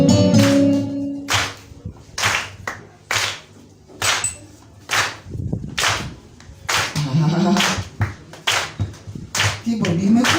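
A church congregation claps in praise during a Sunday service praise hour. Single sharp hand claps land one at a time at uneven intervals, loud and close, with a voice speaking between them.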